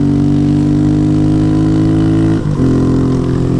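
A Honda Grom motorcycle with a loud, obnoxious aftermarket exhaust and Maxxis M6024 dual sport tires cruising off-road, its engine droning steadily and loudly throughout with a brief dip in tone midway.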